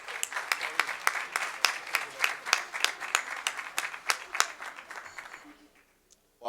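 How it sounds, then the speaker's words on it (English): An audience claps for an Energy Excellence Award recipient at a board meeting, a moderate round of distinct, fairly sparse claps that thins out and fades to near silence, then a voice begins. "Round of applause, please."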